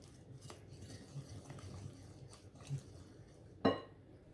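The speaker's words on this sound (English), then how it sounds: "whisk all that together until smooth" Soft clinking and stirring of a Danish whisk working pancake batter in a bowl, quiet and uneven, with a sharper knock near the end.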